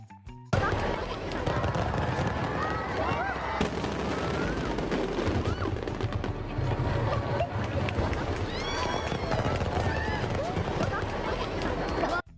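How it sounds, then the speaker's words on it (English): Dense crackling and popping bursts fill the air continuously, with loud bangs and fizzing under a noisy outdoor crowd. "This is the most beautiful fireworks display."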